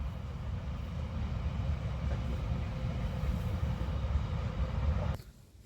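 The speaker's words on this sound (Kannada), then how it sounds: "ಇಲ್ಲಿ ರೈಲ್ವೆ ಟ್ರ್ಯಾಕ್ ಇರೋದ್ರಿಂದ ಸ್ವಲ್ಪ ಡಿಸ್ಟರ್ಬೆನ್ಸ್ ಇದೆ" A train rumbles past on the tracks with a heavy, steady low roar that cuts off abruptly near the end.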